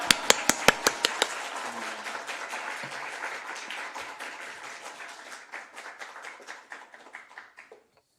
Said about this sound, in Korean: 환영의 박수 할렐루야로 하시겠습니다